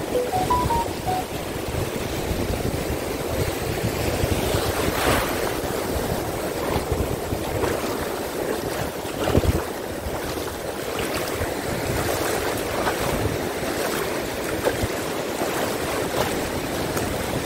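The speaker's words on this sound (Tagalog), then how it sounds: "Malakas yung alon." Strong ocean waves surge and wash continuously at close range, a dense roaring hiss with swelling crashes and wind noise, no voices heard.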